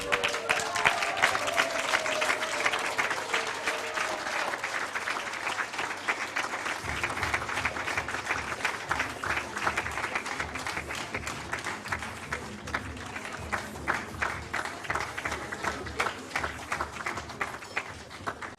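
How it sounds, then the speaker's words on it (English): A book launch audience gives a standing ovation, a long, sustained burst of dense clapping from a crowd that holds steady for its whole length with no voices standing out. "we give David a standing ovation."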